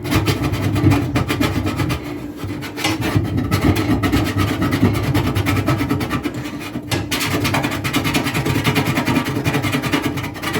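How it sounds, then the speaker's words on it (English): An oven interior is scrubbed by hand with a scrubber, a close, continuous rhythmic rasping and rubbing with steady back-and-forth strokes and brief pauses. "doing this manually by hand with the scrubber"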